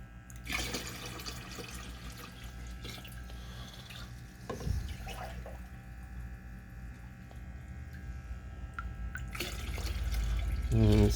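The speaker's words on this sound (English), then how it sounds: "This plastic jug I'm filling here is a gallon." Aquarium water pours into a plastic gallon jug, heard as a faint trickle and splashing with occasional drips close by, the sound rising toward the end as the jug fills.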